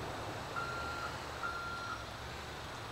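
Steady reversing beeps from a tow truck in GTA 5 Online, a regular series of short tones sounding over a constant engine drone, with no voices.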